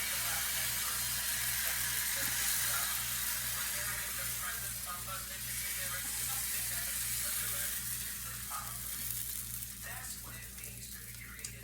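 Vegan omelette batter fries in a hot pan with a broad, constant sizzle that stays loud and steady throughout, under a low hum, with a person speaking now and then.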